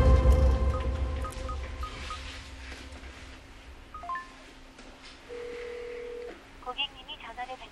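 Telephone call tones in a Korean TV drama scene: a series of short electronic dial beeps, then a longer steady ringback tone as the call goes unanswered, with no one speaking.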